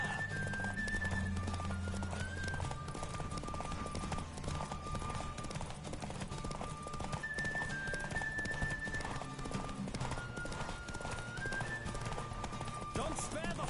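Steady galloping hoofbeats from a horse in a race in The Witcher video game, a continuous rhythmic clatter under music, with someone speaking at points.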